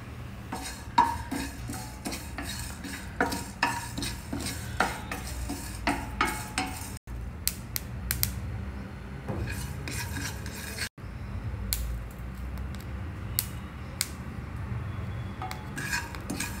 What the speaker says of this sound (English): We will dry roast all these ingredients.